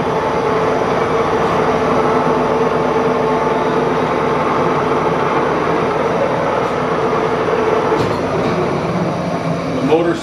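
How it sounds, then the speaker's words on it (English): A Monarch engine lathe's motor runs continuously with a steady, broad mechanical rumble and whir, loud and close, with a few faint clanks near the end. "The motor stays running all the time."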